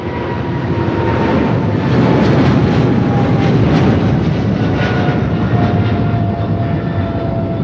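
An AeroLogic cargo jet roars steadily and loudly as it passes near an airport, a broad sustained engine rumble with a faint high whine and no voices.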